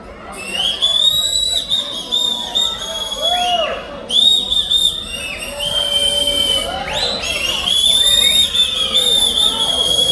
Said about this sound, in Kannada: ಯಾರು ವಿಸಿಲ್ ಹೊಡಿದ್ರು ಅವರೊಬ್ಬರೇ ಹೊಡಿಲಿರಿ